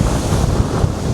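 Strong wind roars into the microphone over crashing sea waves at a seafront promenade awash with spray, a loud, constant buffeting rumble with no voices.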